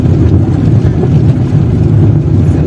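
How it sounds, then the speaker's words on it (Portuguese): A chicken delivery truck drives along a wet road in Valentim, Dário Meira, Bahia, as rain begins, making a steady, close, low engine and tire rumble that holds for the whole stretch. "o carro do frango na estrada"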